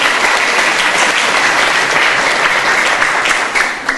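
A large crowd at an Indonesian book discussion in Lombok breaks into loud, dense applause that fills the clip and dips slightly near the end.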